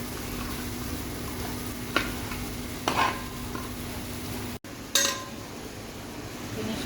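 A spoon scrapes and clinks against a pan of chicken stir-fry with fried grated coconut over a steady sizzling hiss of frying, with a few sharp knocks spaced apart.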